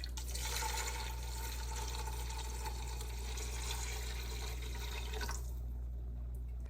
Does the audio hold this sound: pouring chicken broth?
yes